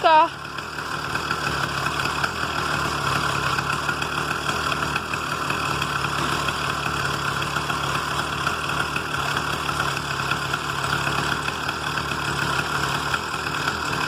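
An 80cc gasoline engine fitted to a bicycle idles steadily and continuously throughout, a close, even engine drone with no revving.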